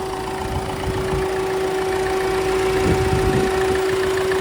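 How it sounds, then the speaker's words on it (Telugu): A 2017 Ford EcoSport Titanium Plus diesel engine idles close by with a loud, steady hum and a constant tonal whine over a rough, knocking low rumble, running alone without talk. "ఇంజన్ మాత్రం ఓకే అండి ఎక్సలెంట్ ఉంది"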